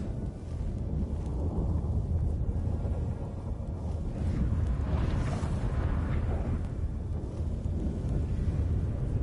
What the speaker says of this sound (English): What the... that a storm?